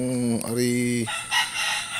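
A rooster crows once, loud and close, a drawn-out harmonic call ending abruptly, followed by quieter background noise.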